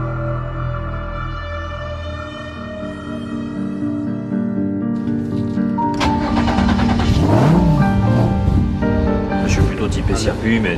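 A Renault Twin'Run concept hot hatch running on a test track, a steady engine drone that rises in pitch as it accelerates, loud and close, with overlapping tones and a voice talking over it.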